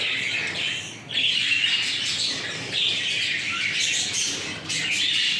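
Budgerigar chicks chirp and squawk in a continuous, busy chatter of high calls close by, with no voices over them.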